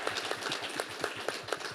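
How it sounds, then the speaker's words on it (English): Quick, fairly faint applause from an audience at a Texas health care event, brisk even clapping with a slightly muffled, distant quality. "With a round of applause for Dr. Kirk Calhoun"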